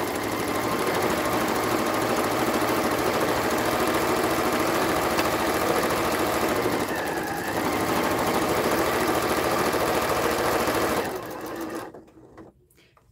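A home sewing machine stitches steadily through reusable fabric gift wrap, a loud, continuous mechanical whirr that holds for most of the stretch, then slows and stops near the end.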